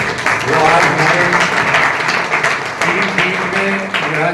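An audience at an honoring ceremony for karsevaks in Dehradun gives welcoming applause: a full, sustained burst of clapping from a crowd, fairly loud, with faint voices and some tonal sound mixed underneath.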